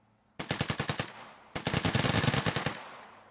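An AK-47 gunfire preset from the Krotos Weaponiser sound-effect plugin plays two rapid automatic bursts, each a fast, even rattle of loud, punchy shots, separated by a brief pause and with no speech.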